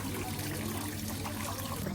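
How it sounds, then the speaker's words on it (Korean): Water runs steadily in a restaurant in Türkiye, a soft, even wash of flowing liquid in the background, fairly quiet and unbroken throughout with no talk. "와 물소리 들으면서"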